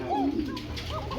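A Koka pigeon, one of a pair for sale, gives a brief cooing call close by with a little background noise.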